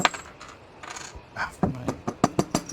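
A 20-sided die dropped onto a table, clattering and bouncing in a quickening series of sharp clicks that settle to rest, following some softer handling noises.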